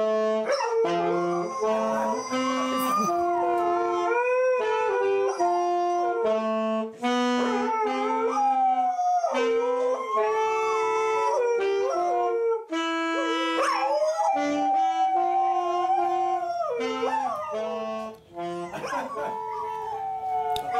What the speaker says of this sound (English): There's no melody. It's just a howl.